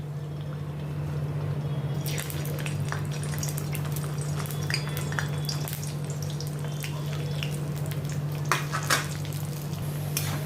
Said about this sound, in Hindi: इसी तरह से मैं ये बाकी के भी सभी फ्राई कर लेती हूँ।